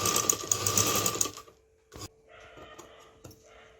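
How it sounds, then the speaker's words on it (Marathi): A sewing machine double-stitches a blouse lining onto the main fabric without canvas. It runs in a fast, steady burst for about a second and a half, then stops, leaving faint handling clicks and taps. "तर आता मी डबल शिलाई करून घेते कारण कॅनव्हास नाही आहे"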